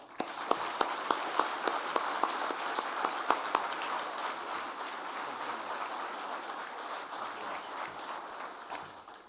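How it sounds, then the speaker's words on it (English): Applause fills a NATO Military Committee Conference welcome ceremony in Estonia, sharp claps standing out early before settling into steady, moderately distant clapping that holds for several seconds before tapering off. "I hope you will join me in an applause for these two."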